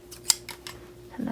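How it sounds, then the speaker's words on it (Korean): Scissors snipping through quilting fabric while a coin purse is made, a few crisp, close cuts spaced apart in a quiet room, with a soft rustle of cloth at the end. "튀어나온 부분은 잘라주세요"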